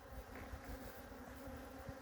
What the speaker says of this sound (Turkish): Arı geziyor dışarıda sevgili dostlar.